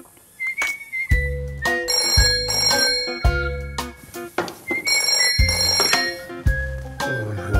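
A telephone rings repeatedly in loud, close bursts with short gaps between them. No talking is heard.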